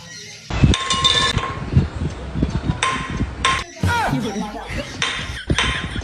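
A silver drinking glass clinking in a comedy skit, several bright metallic chinks and knocks with bursts of voices and laughter around them.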